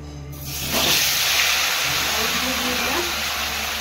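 Potatoes drop into hot oil with a sudden loud sizzling hiss that swells and then holds steady, under quiet background talk and faint tones.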